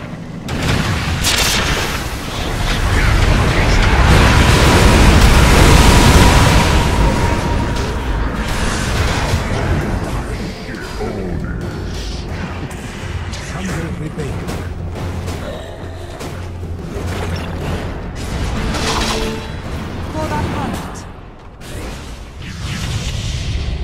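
Dota 2 combat rages around a middle tower under attack, with dense, loud booms, whooshes and clashing impacts that swell midway and keep going without pause.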